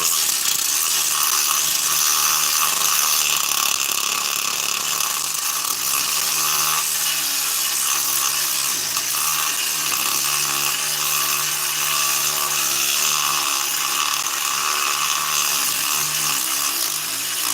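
A power tool with 50-grit abrasive grinds over the lower intake ports of a 660 chainsaw engine, a steady, loud, high-pitched whir that runs continuously with small fluctuations in pitch.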